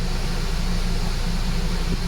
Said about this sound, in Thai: อันนี้เป็นรอบเดินเบานะฮะรอบเดินเบา